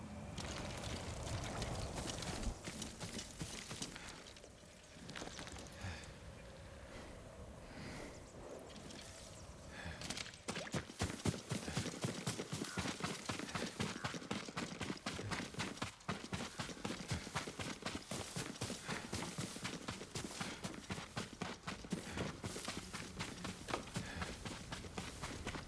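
A horse's hooves clip-clop in a steady rapid rhythm in the video game Ghost of Tsushima, quiet and continuous, swelling into a clearer, faster gallop partway through, with no talking.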